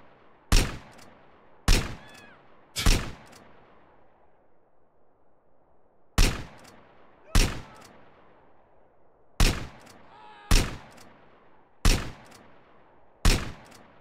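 Rifle fire in GTA San Andreas comes as sharp, loud single shots, about ten spaced at roughly one-second intervals with a short pause midway, each followed by a brief decaying tail.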